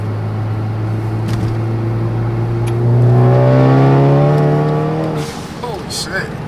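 A Ford Focus ST fitted with colder spark plugs and an oil catch can accelerates hard on a test drive, its engine note rising loud and strong through the revs before easing off.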